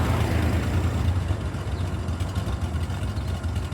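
A 1996 Honda GL1500 motorcycle engine idles on half choke from a cold start after sitting for a week, at about 1,000 RPM, giving a steady, loud, low rumble that stays alone and even throughout.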